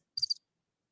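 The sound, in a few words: cricket chirping sound effect from a soundboard button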